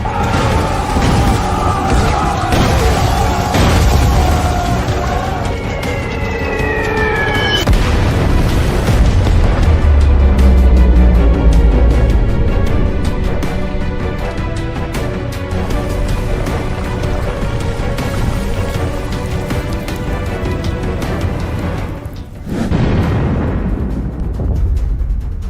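Bombs dropped from a wartime bomber explode in a long, loud barrage of deep booms and rumbling blasts, continuous for most of the stretch, with a brief lull near the end before the roar resumes, layered over dramatic film score.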